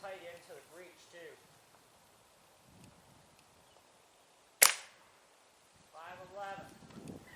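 A single sharp, crisp crack from a Roebel B2-2 .22 caliber air rifle, standing alone in a quiet gap between stretches of someone talking.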